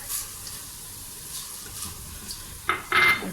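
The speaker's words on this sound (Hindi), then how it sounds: "साथ ही हम प्याज डाल देंगे" Onions are added to a pan of hot oil with garlic-ginger paste and stirred. A quiet stretch gives way to a sudden loud burst of sizzling, with a short clatter of the utensil against the pan near the end.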